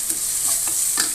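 Garlic stirred and frying in a pan with fennel seeds and onion for a drumstick fry, a bright steady sizzle with a few soft spoon scrapes, close and brief.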